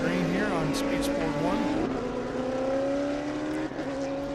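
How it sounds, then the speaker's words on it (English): Audi R8 LMP prototype race car lapping with other cars during a historic race at Sebring, a loud steady engine drone with shifting pitch as cars pass. "Travis Enkin at the front of the field in that stunning Audi R8 LMP"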